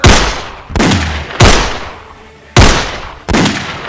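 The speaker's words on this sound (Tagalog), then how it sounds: "putok ng baril ni Igme dito habang papalapit siya dito" Five sharp, loud gunshots ring out one after another at uneven intervals, each a close blast trailing into a short echoing decay, part of a horror story action scene.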